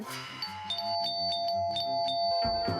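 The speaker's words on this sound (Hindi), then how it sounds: "ये घंटी बजी सही वक्त पर।" A doorbell rings in a home with a clear ding-dong chime, its bright tones repeating and sustaining for a couple of seconds, loud and close with no talking over it.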